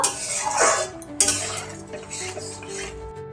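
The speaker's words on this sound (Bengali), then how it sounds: "গরম মশলা দিয়ে দিলাম একটু নেড়ে চেড়ে নেব" A spoon scrapes and clinks against a pan while chana paneer masala with garam masala is stirred, a few metallic knocks and a soft low hum beneath, near and without talk.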